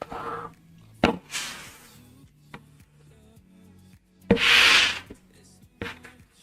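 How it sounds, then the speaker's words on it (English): A tissue rubs oil along the wooden edge of a kitchen door, short scuffing strokes separated by light knocks and taps, with one longer, louder rub near the end, close up and without talk. "I will be using a tissue in a second to wipe over the whole thing, to rub off any crazy excess."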